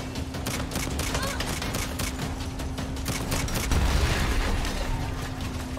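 Rapid bursts of gunfire aimed at motorbikes in the Saints Row reboot video game, dense crackling shots repeating for several seconds, with a heavier boom near the end, loud and continuous.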